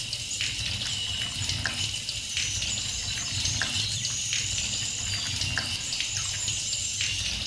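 Water running steadily from a tap during wudu, the ritual washing of the hands up to the elbows, a continuous close splashing stream with hands moving through it, no talking.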